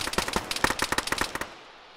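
Rapid automatic gunfire in the military shooter Arma, a fast burst of about twenty sharp, fairly close reports in quick, slightly uneven rhythm before stopping abruptly, with no voices over it.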